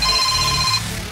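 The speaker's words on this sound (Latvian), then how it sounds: "Psihologs Elmans zvana" A telephone ringtone chirps briefly and electronically for under a second, then cuts off, leaving low background rumble.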